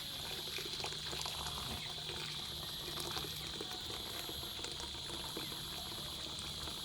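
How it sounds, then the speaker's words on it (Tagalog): Steady running water pours continuously into a pot for noodles, a close, even rush with faint bubbling underneath and no voices. "lagay tayo ng tubig"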